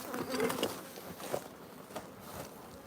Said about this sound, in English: this nuke has got Ligurian bees in it